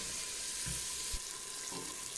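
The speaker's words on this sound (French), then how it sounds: "Maintenant je vais rajouter un peu d'eau." Water poured into a cooking pot of meat and onions simmering for a Moroccan harira soup, a steady gushing splash over faint sizzling, close and fairly quiet.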